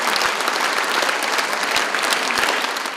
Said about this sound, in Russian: Каждое выступление артистов вызывало у зрителей бурные овации.